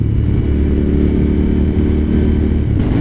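Suzuki TL1000R motorcycle with 150,000 miles, 20 years old, its engine droning steadily and loudly while being ridden, a continuous low throbbing note with no talk.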